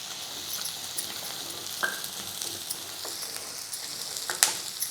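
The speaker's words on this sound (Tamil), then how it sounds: "அப்படியே கொஞ்சம் அந்த பட்டரில் வதக்கும் போது நல்ல வாசனையாக இருக்கும்" Chopped beans and carrots sauté in butter for vegetable soup with a steady, close sizzle, small pops and the occasional clink of stirring, and nobody speaks.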